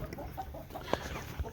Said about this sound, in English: show you the chickens